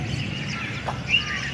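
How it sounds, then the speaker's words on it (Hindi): Faint, brief bird chirps rise out of a steady wash of background noise at a railway station in Lahore, with no one talking. "ये परिंदे, ये उनका चहचहाना"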